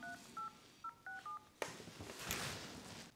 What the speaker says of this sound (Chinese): 还有一个电话，我再打另一个